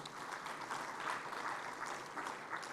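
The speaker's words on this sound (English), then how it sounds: "A round of applause for that wonderful session." Audience applause at a finance and accounting forum session, a steady, dense patter of many hands clapping at moderate distance, fairly quiet and continuous with no talking over it.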